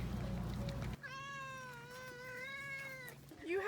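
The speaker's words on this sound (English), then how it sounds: "You have a new cat." A cat gives one long, drawn-out meow with a clear wavering pitch, close and alone, with a brief rustle before it and a soft voice at the end.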